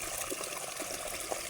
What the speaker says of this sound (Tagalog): Yan ang tubig ng palayan.